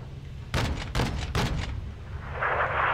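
Small arms fire in Call of Duty MW2 comes as a quick cluster of about four sharp, loud shots with echoing tails, followed by a low hum and a swelling hiss.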